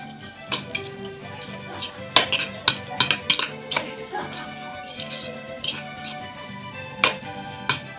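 Chopped onion, tomato and cilantro are emptied into a bowl of cooked nopales for a salad, with light scattered clinks and taps of utensils against the bowl, close by, under someone talking.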